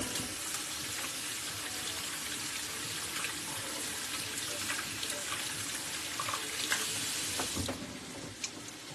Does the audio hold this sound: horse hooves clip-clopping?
no